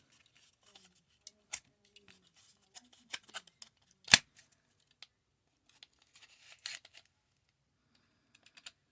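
Toy packaging for a G.I. Joe Classified action figure set is cut open, giving sparse, quiet snips and crisp clicks at irregular intervals with one sharper snap midway.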